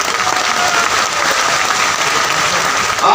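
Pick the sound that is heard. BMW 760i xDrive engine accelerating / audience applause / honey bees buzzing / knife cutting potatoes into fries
audience applause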